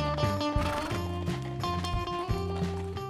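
Mounted police horses riding close together in formation, heard as a clear, steady clip-clop of hooves with occasional snorting, nearby and prominent.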